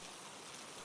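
Heavy rain pours down over a city at night, a steady, dense hiss of water with no break, fairly faint and uniform throughout.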